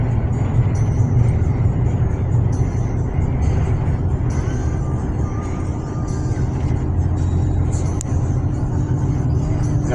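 Cars and traffic passing near a great bridge in Paris, a continuous close rumble of engines with a brief brake hiss, and people talking faintly underneath.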